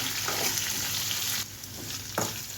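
Sliced onions, curry leaves and dry red chillies frying in hot oil, a loud, close, continuous sizzle that briefly dips midway, with faint stirring scrapes and no voices.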